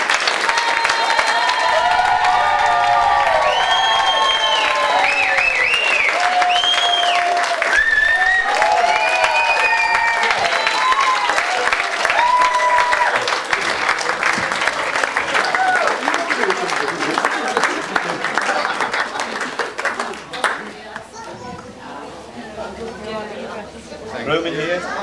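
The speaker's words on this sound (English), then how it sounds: "Claps and cheers are allowed" Wedding guests standing to greet the bride and groom break into loud, sustained clapping and cheering, with whoops and chatter over the applause before it thins out and voices take over near the end.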